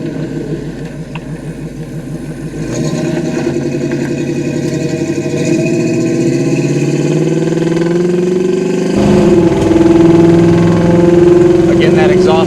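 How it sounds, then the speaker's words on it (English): A 1971 Chevrolet Nova SS rumbles loudly and close from the engine and exhaust while driving, holding a steady drone before the pitch climbs as the throttle opens, then settling into a stronger, higher growl near the end. "Again, that exhaust sounds good."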